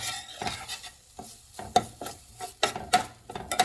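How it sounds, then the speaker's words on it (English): Red peppers roast in a pan, giving a soft sizzle under repeated scraping and clinking stirs of a utensil against the pan in a quick, uneven rhythm. "just give it a nice little stir"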